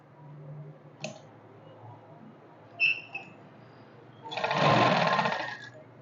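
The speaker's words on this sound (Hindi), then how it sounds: "इसके ऊपर एक पैर का मार्जिन देके चारों ओर सिलाई लगा दूँगी" Sewing machine stitching a patch along a suit's neckline, a few faint clicks followed by a close, steady whirring burst of stitching lasting about two seconds.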